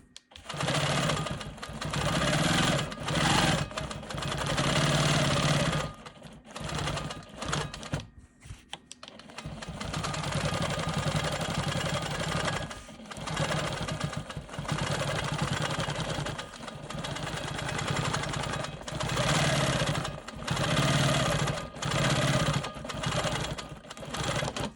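A Quilt Maker Pro 20 longarm quilting machine stitches continuously across a block along a ruler, a steady close mechanical whirr with a brief pause partway through, no talking.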